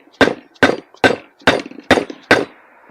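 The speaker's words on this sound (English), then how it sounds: "This is a soft blow hammer" Soft blow hammer striking a damper rod tool: six firm, evenly spaced knocks about half a second apart, loud and close, each ending in a brief ring, with no one talking.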